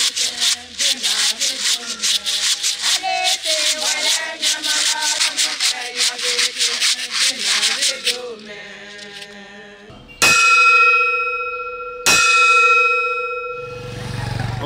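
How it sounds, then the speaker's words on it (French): Church hymns sung in chorus with traditional instruments: shaken calabashes rasp in a steady rhythm under the singing, then two loud ringing bell strikes that sustain and fade. "Les cantiques s'exécutent en chœur avec des instruments traditionnels tels que la cloche et les"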